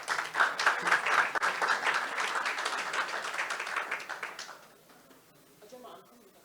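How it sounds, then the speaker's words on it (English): Event audience applauds for the Minister for Information at a funding talk, a loud burst of many hands clapping that carries on for several seconds, then thins and fades as scattered claps trail off. "Please, a hand of applause for him."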